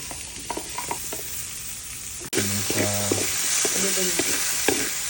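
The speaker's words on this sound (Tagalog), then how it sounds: "magigisa na tayo ng bawang, sibuyas" Garlic and onion sautéing in hot oil in a pan for a Filipino bopis dish: a steady close sizzle with stirring clatter, growing louder after the ingredients drop in midway, with a voice speaking intermittently over it.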